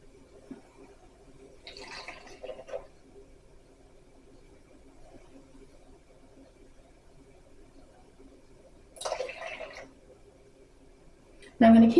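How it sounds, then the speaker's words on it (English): Water is poured into the pan of a bread machine for sourdough in two short splashing bursts, several seconds apart, close and fairly quiet in a calm kitchen. "Next, I'm going to put in my water."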